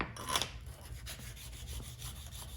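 A card scraper's edge is rubbed back and forth on a diamond sharpening stone, giving faint rhythmic gritty scraping strokes, close and quiet, with one sharper scrape near the start and no voices.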